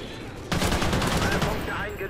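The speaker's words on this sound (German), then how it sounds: "Wir werden beschossen!" Heavy automatic gunfire from the Call of Duty Ghosts multiplayer game bursts in after half a second, a loud, dense rattle of rapid shots that continues steadily to the end.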